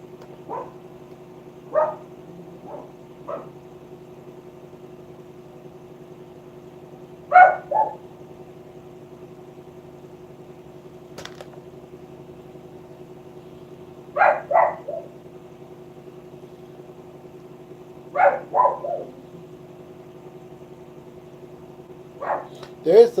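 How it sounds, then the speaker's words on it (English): A dog barks in short clusters of two or three yaps, repeating every few seconds, somewhat distant in an otherwise quiet room. "the dog's kind of distracting me with his barking"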